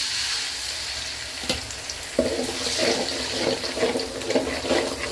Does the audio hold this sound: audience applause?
no